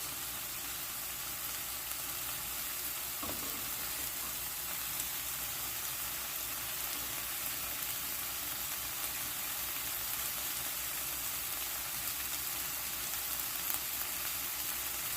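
A salmon fillet fries in a dry pan with no added oil, giving a steady, even sizzle that holds at a constant level throughout, close up and with no talking.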